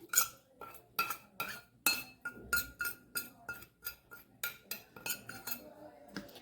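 Spiced mixture being stirred into cut raw mango for an instant pickle, a spoon clinking steadily against the bowl in repeated quick scrapes and taps, close and clear.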